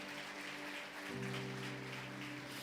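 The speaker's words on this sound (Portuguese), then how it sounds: "Quem crê diga glória a Deus e aplauda o Senhor." A church congregation applauds in worship, a soft, distant wash of clapping with a sustained keyboard chord ringing underneath throughout.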